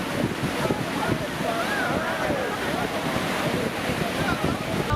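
Steady rush of surf breaking along a beach, continuous and fairly loud with wind buffeting the microphone, no talking.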